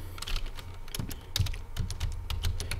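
Rapid clicking of keys on a computer keyboard, a close and steady run of keystrokes with uneven rhythm and no talking.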